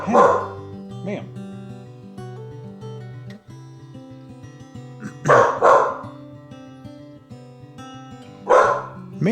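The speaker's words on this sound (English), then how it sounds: "among the most she's barked since we've moved in here." A pet dog named Penny barks in short loud bursts at the start, middle and end, with yips and whimpers between them and a person speaking over music in the background.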